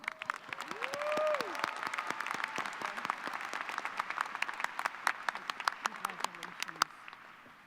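Audience applause at a university commencement ceremony, dense sustained clapping from a large crowd that carries steadily throughout before thinning at the end, with a brief voice audible early on.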